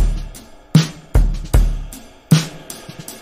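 Programmed reggae drum beat built in Logic Pro: sparse punchy kicks and sharp snare hits land in a loose rhythm, each decaying before the next, with faint hats between and no voice.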